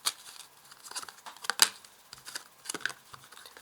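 Soft paper-like rustles and a few light taps as a tarot card is drawn and laid down, quiet and close with no talking.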